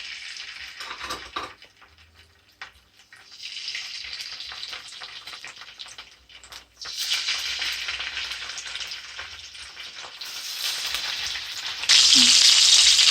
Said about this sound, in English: So my oil is a bit hot. I would like to add my salmon into it.